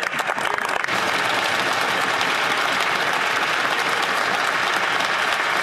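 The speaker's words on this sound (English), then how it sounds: "Not even half of the Liberals stand up and clap." Loud sustained applause in parliament, a dense wash of many clapping hands that starts scattered and quickly builds into a steady roar lasting throughout.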